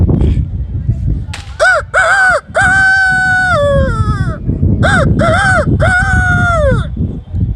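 A voice imitates a rooster crowing several times in drawn-out, wavering calls, with brief background talk and noise underneath.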